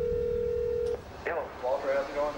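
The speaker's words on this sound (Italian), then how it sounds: "ho ricevuto una telefonata da Max Mayfield" Telephone dialing tones: a steady tone cuts off, then a few short tonal beeps follow while a voice speaks over them.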